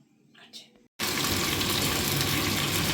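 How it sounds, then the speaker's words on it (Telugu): Capsicum hits a hot pan for a mutton capsicum curry and breaks into a loud, steady, close sizzle that continues without a break after a quiet moment with faint sounds. "ఫస్ట్ క్యాప్సికమ్ని ఫ్రై చేసి మనం ఒక బౌల్లోకి తీసుకోవాలి"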